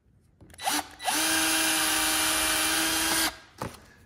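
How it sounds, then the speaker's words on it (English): A power drill bores through a workbench for casters, with a brief spin-up, a steady loud whine for about two seconds, and a short final burst. "I'm just gonna go through and drill this."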